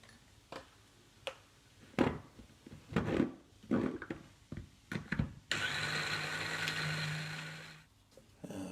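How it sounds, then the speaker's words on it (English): A small food processor chops coriander roots: a few knocks and clicks, then a steady whirring motor that runs for about three seconds and cuts off abruptly. "I throw those in first and process them up quite a lot to begin with. Just a little processor will do."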